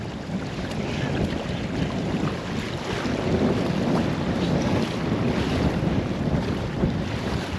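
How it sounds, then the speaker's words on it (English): Someone wading across shallow Caribou Creek on Baffin Island, a continuous close rush of splashing water mixed with wind buffeting the microphone, steady and fairly loud throughout, with no voices. "Okay, let's keep crossing Caribou Creek."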